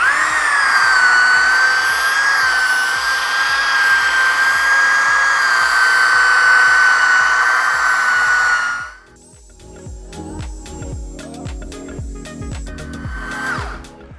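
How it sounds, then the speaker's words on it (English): A power sander hums with a high, steady whine for several seconds while sanding scratches out of glass, then shuts off, leaving quieter taps and scraping. "This is going to be our last step with the sanding"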